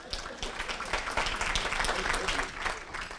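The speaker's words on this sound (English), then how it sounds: "you're applauding for a good reason" Applause from a meeting audience of a lake friends association, a steady burst of many hands clapping close by, lasting a few seconds at moderate volume with no talk over it.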